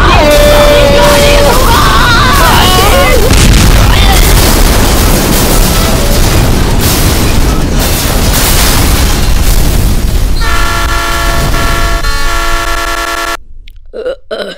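A train crash in the video game Chicken Gun sets off loud, continuous booming explosions and crashing noise. Tonal honking tones rise near the start and again toward the end before the sound cuts off abruptly.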